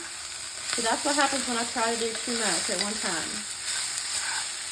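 Onions sizzle in a pan for potato soup, burning a little. A steady frying hiss runs throughout, underneath a person talking.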